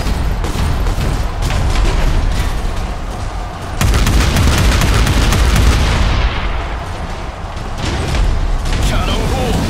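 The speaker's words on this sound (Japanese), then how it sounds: "キャノン砲命中だ。" Cannon fire striking a target in the mech battle game Figureheads, heard as a dense run of loud booms and gunfire-like blasts that continues almost unbroken, with a brief lull partway through.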